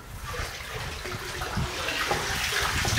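Water being drawn from a shallow well with a rope at a rural home, heard as steady splashing and trickling liquid throughout, moderately loud and close, with no voices.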